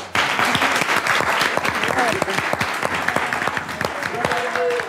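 A theatre audience breaks into loud applause for a company of actors, a sudden burst of clapping from many hands that carries on steadily, with a few voices rising over it.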